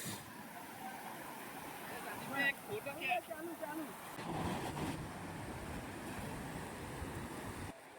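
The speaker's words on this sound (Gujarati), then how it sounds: "મોજા એકદમ જ આવે છે મિત્રો, કે દૂરથી આવતા નથી, એકદમ જ ઉછળીને આવે છે મોજા" Ocean waves surge and crash onto the beach at Dwarka, a rough wash of surf mixed with wind noise that swells midway, with voices faintly in the background.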